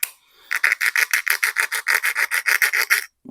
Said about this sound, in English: sanding stick, sand it down.